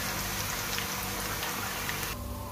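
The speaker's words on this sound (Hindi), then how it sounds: "तो चलिए मैं इसको करती हूँ फ्राई। पहले आलूओं को फ्राई करके" Potatoes frying in hot oil for chicken biryani, a steady dense sizzle and crackle that holds loud and even throughout, with no talking.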